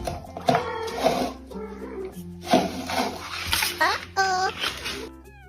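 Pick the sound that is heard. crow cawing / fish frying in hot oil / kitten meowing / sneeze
kitten meowing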